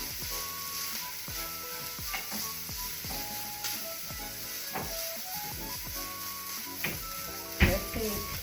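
Sausage fries in a pan for sausage gravy, a steady soft sizzle with repeated scraping stirs, while people talk quietly over it.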